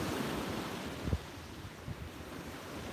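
Wind buffets the microphone over the steady roll of ocean waves on a beach, a low continuous rumble with a brief gust swell midway, no talking.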